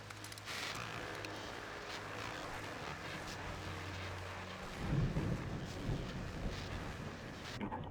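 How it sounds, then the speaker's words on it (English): A thunderstorm in a video game: a low steady rumble with rain and wind builds into a louder rolling surge of thunder near the end, broad and continuous. "that storm we all felt coming is finally here"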